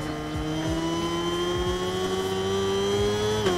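A motorbike in a video-game endurance race at the Nurburgring GP circuit holds a steady high engine drone at speed on a straight, with rising pitch and whooshes of other vehicles passing, loud and continuous with no talk.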